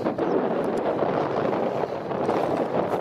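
Steady wind buffets the microphone in a continuous rough rumble, with no voices.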